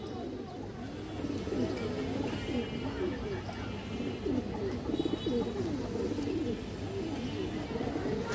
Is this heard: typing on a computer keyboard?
no